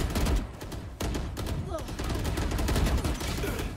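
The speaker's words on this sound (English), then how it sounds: "there's four people shooting at me" Rapid, overlapping bursts of gunfire from several shooters in VALORANT crackle close and loud, nearly continuous across the few seconds.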